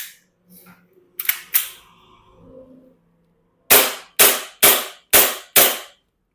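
Airsoft gun fired in semi-auto: five sharp, loud snapping shots spaced evenly about half a second apart, after some quieter handling clicks and rattles.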